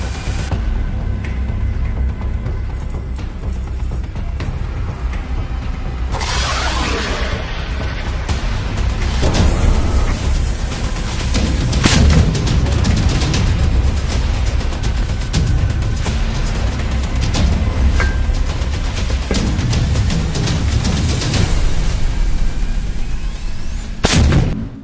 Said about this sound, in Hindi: फिर वो उसमें एक बड़ा सा रॉकेट लगा देते हैं, जिसे कुछ ही सेकंडों बाद फायर कर दिया जाता है।